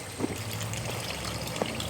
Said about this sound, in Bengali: এবারে আমি একটু উষ্ণ গরম জল দিয়ে দেবো।